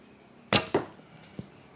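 An arrow loosed from an Alibow Horchin Mongolian horse bow: a sharp snap of the string and release, a quick second crack, then a faint distant thud of impact, close and alone.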